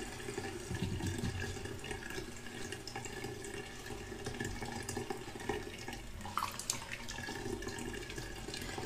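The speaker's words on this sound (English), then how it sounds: "I'm going to go ahead and just give my belly a quick wash." Water runs steadily from a tap, splashing and trickling as skin is washed with soap under it, with a brief louder splash near the end.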